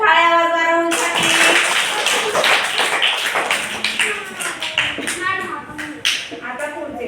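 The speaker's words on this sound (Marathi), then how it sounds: "टाळ्या वाजवा राहुलसाठी." A classroom of young children at a rural ashram school claps for a classmate, a dense crowd of small hands pattering steadily and close, with voices and chatter running underneath.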